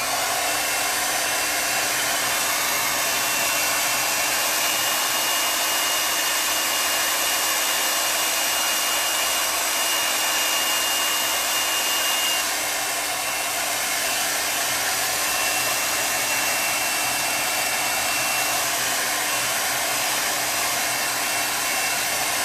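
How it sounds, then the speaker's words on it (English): A hair dryer runs continuously at close range, drying chalk paste applied to fabric, a steady loud whoosh with no talking. "I'm going to dry it a little bit more."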